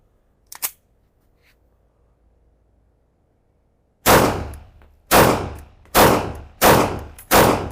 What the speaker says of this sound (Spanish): déjenme disparar algunos tiros más